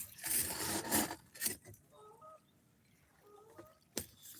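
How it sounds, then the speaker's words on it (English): Geese honking near the Rhine, a few faint, distant nasal calls in two short bursts that follow louder rustling and handling noise. "some cobra chickens are making noise"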